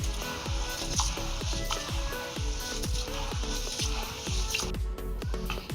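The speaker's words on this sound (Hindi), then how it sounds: "इसे अच्छे से पानी डाल के हम धो लेंगे, बिल्कुल इस तरीके से।" Bajra (pearl millet) grains are washed by hand in water, a steady swishing, rhythmic churn of wet grain repeating about twice a second, close and continuous.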